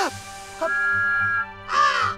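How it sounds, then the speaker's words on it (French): A cartoon crow caws in a farm field scene from Thomas and friends, a few harsh nasal calls over sustained music, the last caw loud and raspy. "À chaque fois qu'un corbeau a le malheur de s'approcher,"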